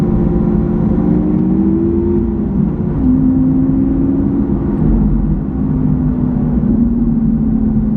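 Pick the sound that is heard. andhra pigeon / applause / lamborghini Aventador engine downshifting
lamborghini Aventador engine downshifting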